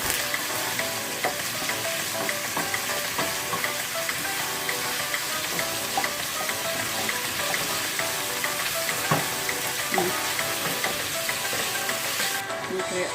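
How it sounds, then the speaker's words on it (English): Bacon and onion frying in a pan, a loud, dense, continuous sizzle and crackle with occasional stirring scrapes, close up with no talking. "Put the onion. Then I put my bacon first, because I want the bacon to be really cooked."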